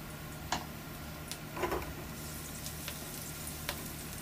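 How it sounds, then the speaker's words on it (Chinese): Garlic slices and scallion pieces sizzling in moderately hot oil in a wok, a steady soft fry with a few sharper crackles and ticks, close and fairly quiet. "油温五成热，放入蒜片和葱段进行炝香"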